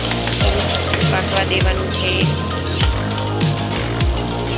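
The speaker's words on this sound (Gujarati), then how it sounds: "ચાલો આપણે ટમેટા ઉમેરી દઈએ। સરસ રીતે હલાવી લઈ" Tomatoes stirred into a sizzling tempering in a pan, with steady frying hiss under repeated scraping strokes of a spoon against the pan roughly every second, close and loud; a brief voice speaks near the end.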